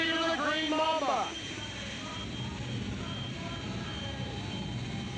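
Westinghouse J60 jet engine in a drag racing car, a steady loud roar at a drag strip with a brief wavering whine at the start.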